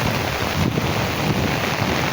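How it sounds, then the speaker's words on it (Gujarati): Heavy monsoon rain pouring down near a flooded canal and fields, a dense, loud, unbroken hiss close to the microphone with a low rumbling undertone. "વરસાદ હજી વિરામ લેવાનું માનતો નથી"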